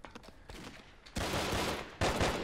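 Loud gunfire from a weapon in the video game Brick Force: a few quick shots, then two long sustained bursts of rapid fire, close and harsh.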